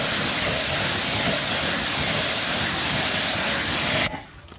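A pressure washer sprays a wheel rim, a loud, steady broadband hiss of water jet that runs continuously for about four seconds before cutting off abruptly.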